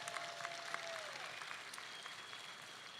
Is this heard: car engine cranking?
no